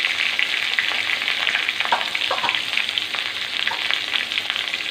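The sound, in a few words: tomatoes added to a pan, frying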